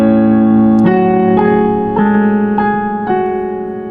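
Piano playing a theme from La La Land, close and clear, with a sustained chord followed by about five evenly spaced new chords ringing out and slowly fading, no talking.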